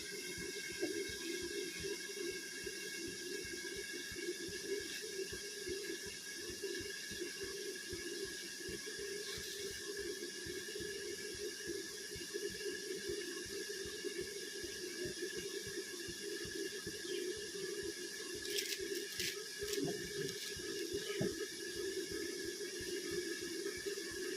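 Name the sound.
water running while watering the chickens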